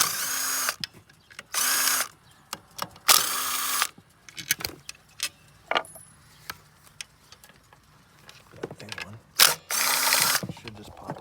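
A hand ratchet undoes the cover bolts on a 125cc scooter. Several loud, close bursts of rapid clicking come in short spells with quieter taps and handling noises between them.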